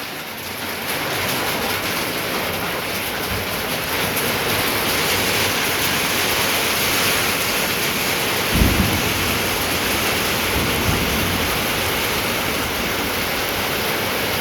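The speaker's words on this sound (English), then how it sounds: "Mom, it's raining." Heavy rain pours down in a steady, dense hiss outside a workshop and garden, loud and continuous, with a single brief thump partway through.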